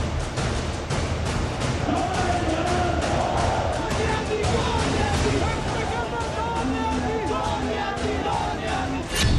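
A large outdoor crowd at an Imran Khan rally in Pakistan, held in winter, sends up a dense, continuous roar of many voices at steady loudness, with no single voice standing out.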